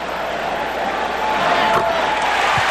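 Basketball arena crowd at a 1992 Bulls vs Cavs playoff game cheering after a Michael Jordan dunk, a loud, steady roar of many voices swelling slightly toward the end.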